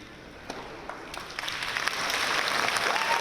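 A high school graduation crowd breaks into applause, the clapping building steadily from scattered claps into loud, dense, sustained applause with faint cheering.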